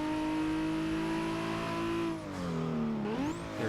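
Turbocharged race car engine in Forza Motorsport 6, a Supra or R34 Skyline, revving hard and steady with a high whine, then dipping and climbing again as gears shift, loud and close with no talk.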